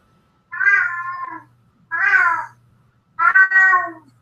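Three distinct, loud cat meows in a row, each drawn out and evenly spaced, close by with near silence between them.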